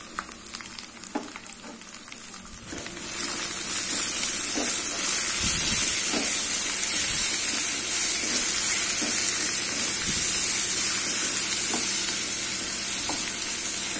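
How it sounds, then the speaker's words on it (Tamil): Sliced raw mango with turmeric and asafoetida sautés in a pan, giving a steady loud sizzle and hiss with occasional spoon scrapes and stirring knocks. "இது ஒரு 2 நிமிஷம் வதக்கிக்கலாம்."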